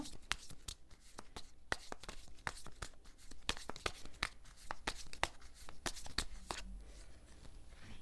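Tarot cards are drawn and handled in a couple-love reading, giving sharp papery snaps, flicks and soft shuffling rustles in an irregular run close by, with no speech.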